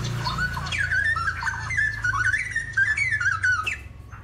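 A young wild cucak rowo (straw-headed bulbul) calls up close in a run of rich, bubbling whistled warbles that rise and fall continuously for several seconds over a low background rumble.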